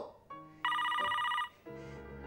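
A telephone rings with a bright electronic trill, a long loud burst followed by softer ringing tones, heard alone without talk, from a Cypriot comedy series.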